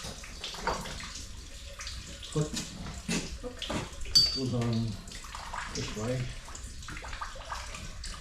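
Hot water runs for cleaning dairy milking equipment, a steady washing flow at moderate level beneath frequent close talk, with brief clanks of equipment.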